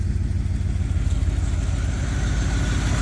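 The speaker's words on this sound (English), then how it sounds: "it is idling under its own power" A 1972 Chevrolet C10 shop truck engine idles steadily under its own power, a loud, close, even rumble with a faint clattery pulse and no talking.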